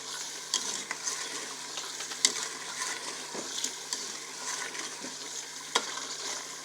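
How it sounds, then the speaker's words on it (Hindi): Potatoes and spinach for restaurant-style aloo palak fry in a pan with a soft, even sizzle, punctuated by occasional light taps of a stirring spoon, fairly quiet and without speech. "इसको 25 सेकंड तक यहाँ पे इसको हमने फ्राई करना है।"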